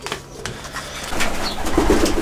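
Pigeons kept together with chickens cooing nearby in a loft, soft repeated low coos rising and falling over a couple of seconds with faint rustling, no talk over them.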